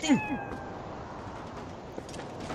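Cats meow in the video game The Legend of Zelda: Twilight Princess HD, two short nearby mews at the start, followed by quieter background game sound.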